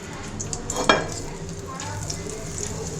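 Chicken frying in oil gives a steady, close sizzle throughout, with a brief clatter of a utensil stirring in the pan near the start.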